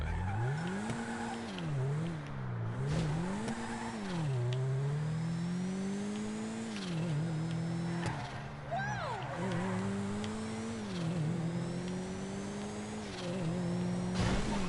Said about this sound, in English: So I like the noise of the gear shifts on this.